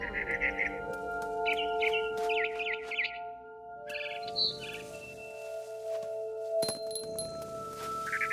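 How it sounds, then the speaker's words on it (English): In the game What Remains of Edith Finch, a barn swallow gives short bright chirps and twitters in bursts over a sustained musical drone, with a few clinking accents. "Then I heard chirping outside my window. It was a barn swallow going back to her nest."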